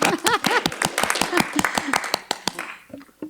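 A small meeting audience claps for a senator in a quick, sparse patter of separate hand claps. Speech overlaps the clapping, which thins out toward the end.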